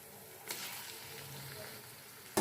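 Chicken frying in a pot with light golden onions for biryani, a steady soft sizzle with a couple of sharper clatters of stirring or ingredients dropping in, no voices.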